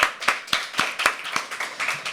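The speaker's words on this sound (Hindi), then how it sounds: "एक बार अपने होस्ट के लिए जोरदार तालियां बजा दीजिए।" An open mic poetry crowd at The Habitat claps in a strong, steady rhythm, with sharp, evenly spaced beats several times a second and no voices over them.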